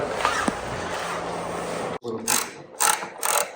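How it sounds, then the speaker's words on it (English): Ratchet wrench clicking as it turns on a fastener of a 2022 Triumph Rocket 3 GT motorcycle part, with three close, rapid bursts of ratcheting after a brief steady noise and a short pause. "I had the ratchet going the wrong way and it was turning, so it's already loose."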